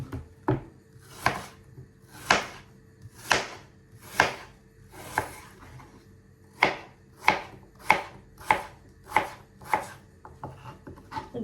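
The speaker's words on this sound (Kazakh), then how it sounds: "Енді тураймыз." Cored apple halves are chopped with a knife on a board in a quick run of sharp, close chops, first in a loose rhythm, then a brief pause, then a faster steady series.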